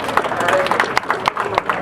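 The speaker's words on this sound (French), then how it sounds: "Je voudrais qu'on l'applaudisse" A crowd applauding and cheering for the Senate president at a gathering in a mosque, a dense wash of clapping with a few sharper claps standing out.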